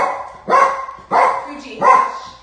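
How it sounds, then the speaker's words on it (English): A dog barks three times in a steady rhythm, loud and close, indoors during an exercise class. "I apologize for the barking."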